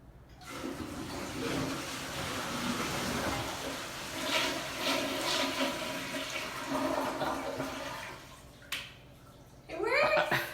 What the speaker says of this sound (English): The whole water's rushing down the pipe at a very delayed flush.